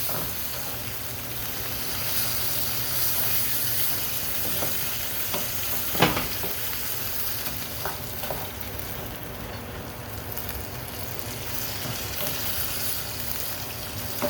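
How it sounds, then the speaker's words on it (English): Chicken cacciatore cooks in a pan with steady, close sizzling and occasional stirring scrapes, with one sharper clatter partway through. "I'm going to stir this in and let this cook for probably about 5 minutes"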